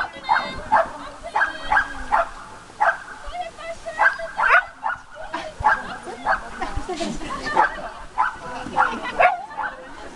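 A dog at a fun race event barks in repeated short yips and bow-wows, broken by whimpering, fairly close and loud, with people talking in the background throughout.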